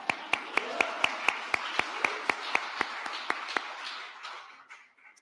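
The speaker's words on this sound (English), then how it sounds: "Are we allowed to clap in the Indian tree? I think we can clap." Clapping during the Vice President's speech on gun violence: sharp, evenly spaced claps ring out about four per second over a soft crowd wash, then taper off and fade into quiet after about four seconds.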